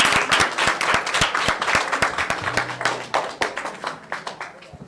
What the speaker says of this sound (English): You can go ahead and give them a round of applause.